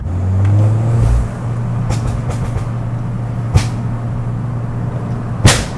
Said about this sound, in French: Ça commence à chauffer. Ça commence à banger.